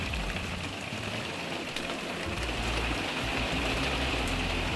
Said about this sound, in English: Now it's just turning to rain.